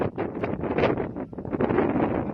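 Strong wind buffets the microphone at a hilltop viewpoint near Kengtung, a loud, steady roaring rush that swells and dips for a couple of seconds with no voices.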